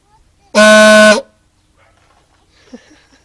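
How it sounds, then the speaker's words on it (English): A car horn fitted to a Suzuki Samurai gives one loud, brassy blast of about half a second, close by, followed by quiet with faint voices afterward. "Throw this horn on there."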